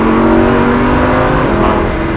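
A Lamborghini Huracan supercar pulls hard under acceleration, its engine note loud and close with a rising whine and steady roar through a gear change, no voices over it.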